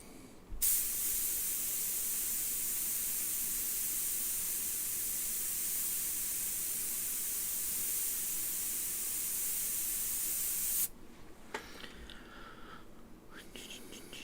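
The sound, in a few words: spray gun spraying paint on a guitar body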